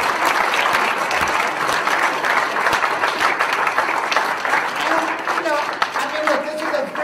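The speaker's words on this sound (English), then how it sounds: "Let's give these guys a round of applause." An audience claps and applauds steadily for several seconds, a dense patter of many hands with a faint voice near the end.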